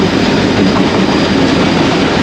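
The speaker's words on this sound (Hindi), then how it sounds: "लांडी जंक्शन पर ये लोकल ट्रेन आ गई है" A local train pulling into Landhi Junction in Sindh, a loud, close, continuous rumble and rattle of rolling cars with faint clickety-clack from the wheels.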